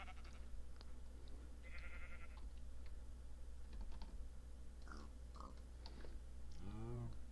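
A sheep in Minecraft lets out a single short bleat near the end, following a stretch of light computer keyboard typing and quiet game sounds.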